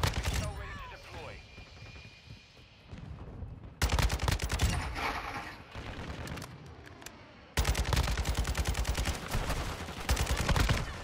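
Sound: Kastov 762 gunfire in Call of Duty Modern Warfare II video game

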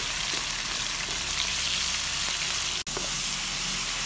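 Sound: stir-frying meat until the moisture cooks off

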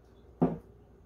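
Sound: lid being put on a pot of chai

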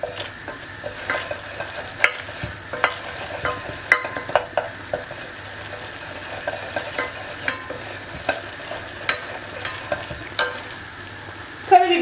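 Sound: stirring flour in a pan for lasagna sauce

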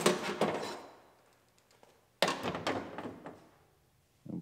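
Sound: outside door handle base pulled out of Acura RDX door

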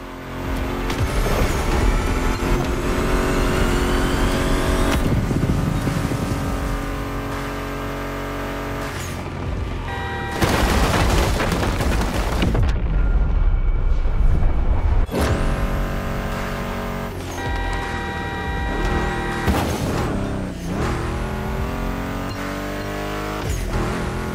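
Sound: muscle car engine roaring, video game

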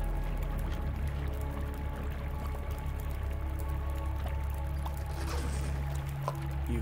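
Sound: running water in The Long Dark video game

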